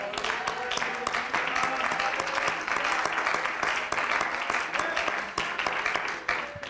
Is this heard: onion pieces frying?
no